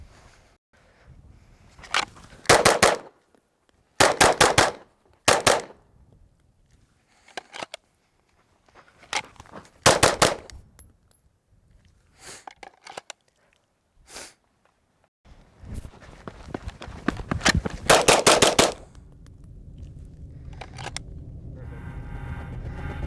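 Pistol shots fired one at a time outdoors on a dusty range, each sharp crack loud and close. Irregular gaps separate them, and a denser cluster of shots comes near the end over a steady background rumble.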